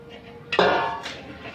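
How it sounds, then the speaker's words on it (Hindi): Beef koftas drop into curry gravy in a cooking pot, a close, loud metallic clank followed by a brief wet splash and a second lighter knock, with no speech. "अब मैं इसमें कोफ्ते डालने लगा हूँ।"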